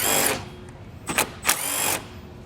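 A power driver spinning out T30 bolts on a 2014 Volkswagen Jetta during base plate installation, two or three short whirring bursts with pauses between them, close and moderately loud.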